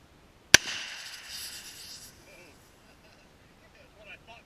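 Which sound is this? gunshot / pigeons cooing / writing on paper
gunshot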